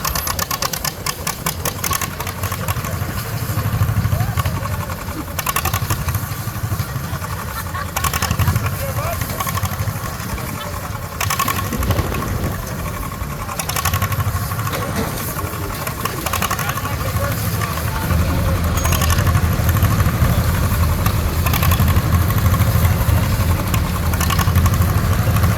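A vintage tractor engine labors continuously during a tractor-versus-humans tug of war at a threshermen's show, a rough mid-range drone with knocking under crowd noise and voices.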